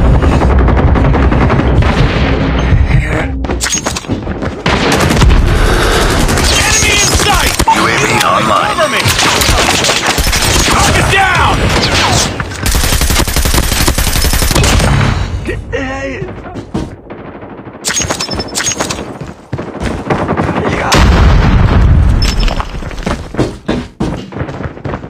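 Dense, loud gunfire in a Call of Duty match, rapid automatic bursts and heavy thumps packed close together, with brief shouted voices among the shots.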